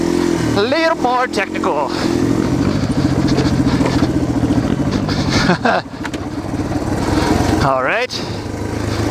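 A Yamaha TTR dirt bike climbs a rocky enduro hill, its engine loud and close with a steady buzzing drone and rising revs as the throttle opens, while a rider speaks over it.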